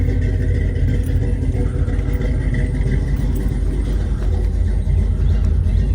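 A loud, rough square-body Chevy Suburban truck engine idles nearby, a constant low rumble with clattering texture throughout.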